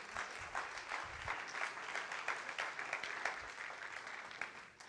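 A church congregation applauds together, a sustained, fairly quiet patter of many hands with softer dips that carries through five seconds without talk.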